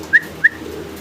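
German Modena pigeons, a breeding pair, give two short, clear calls close by, evenly spaced within about a second over a quiet background.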